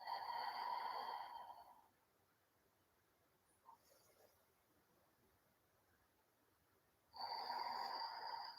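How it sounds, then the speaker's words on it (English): Two long, deep breaths during a yoga back-bend exercise for osteoporosis: one audible breath at the start and another at the end, with near-silence between them, close and fairly loud. "Deep breaths."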